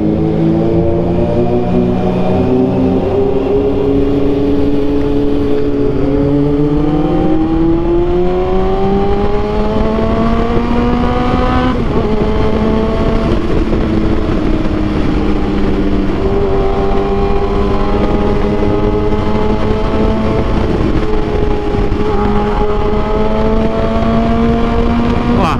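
Big motorcycle on new tires, heard from on board as the engine drones loudly and continuously, pitch climbing through the gears and dropping with each shift, over steady wind rush.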